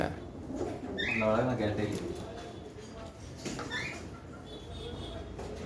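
Pigeons in a cage at a bird market coo and rustle in short bursts, moderately close, amid background chatter and people talking.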